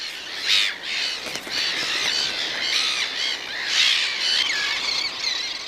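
Terns give harsh, repeated squawking calls in a noisy flurry, several birds overlapping in loud bursts for several seconds, fairly close with no voices.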